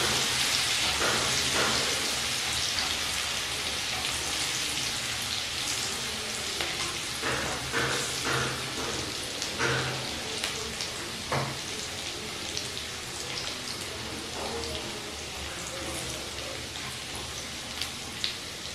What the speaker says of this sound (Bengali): লো ফ্লেমে রসুন একটু ভালো করে ভেজে নিচ্ছি।